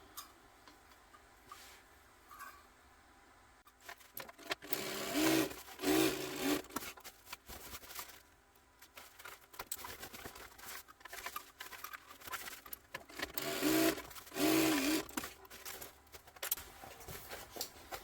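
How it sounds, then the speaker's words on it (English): A sewing machine stitches down the sides of a fabric bag in two loud bursts of rapid mechanical whirring, separated by quieter handling and rustling of fabric. "I'm just going to sew down the sides."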